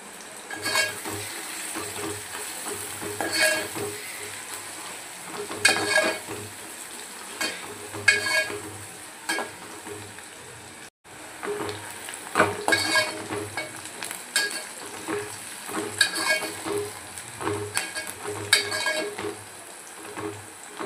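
Chopped onions frying in oil in a pan for Hyderabadi mutton curry, a steady sizzle broken by repeated scraping stirs of a spatula against the metal pan, close and alone.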